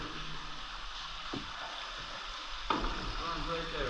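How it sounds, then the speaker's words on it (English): Water runs down inside a flooded tunnel deep under a mountain, a steady echoing wash of flowing water with a couple of sharp knocks or drips standing out. "We got water that runs down right here."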